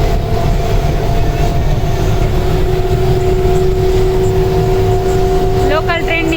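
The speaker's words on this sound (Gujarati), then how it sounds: "લોકલ ટ્રેનની મોજ માણી રહ્યા છીએ મુંબઈમાં" Steady, loud rumble of a Mumbai local train running, heard from inside a fairly empty carriage, with a continuous rolling roar, faint wheel clatter and a low hum throughout.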